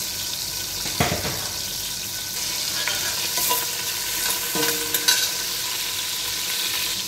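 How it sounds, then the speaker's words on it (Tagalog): Stirring a pan of mung bean stew with garlic and dried fish, a steady scraping and sizzle with a few sharper utensil knocks and some watery clatter, close and moderately loud with no talking. "At haluin natin. Haluin natin ng maayos."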